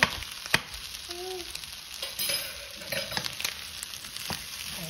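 Eggs and fried rice sizzling in a hot pan, a steady crackling fry broken by scraping and tossing knocks as the rice is stirred around, close up with no talking.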